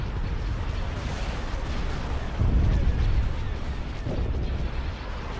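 Deep, muffled video game cannon booms thud twice through a dense, continuous rumbling roar of battle noise.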